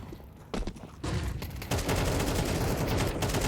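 Rapid bursts of gunfire in Counter-Strike, starting with scattered shots and building into a loud, continuous fusillade of overlapping automatic weapons.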